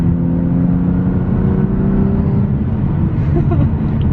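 A BMW F80 M3 with a Bootmod3 Stage 2 tune accelerates, its engine a loud, continuous low droning roar heard from inside the cabin, with the pitch rising slightly as it pulls.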